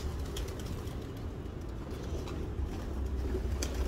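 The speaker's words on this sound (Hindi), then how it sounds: "ये देखिए कितने सारे कबूतर आ गए" A flock of pigeons coos together in a continuous low murmuring chorus, fairly close and steady, with no talk.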